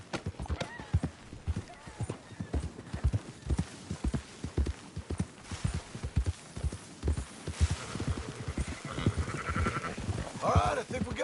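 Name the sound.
sheep bleating in a video game (Red Dead Redemption)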